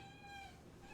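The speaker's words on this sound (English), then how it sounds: "Seem to have an actual cat fight." Two cats, Holly and Lucy, squabbling indoors: a drawn-out, strained feline yowl holds steady at moderate volume for about a second with no talking over it.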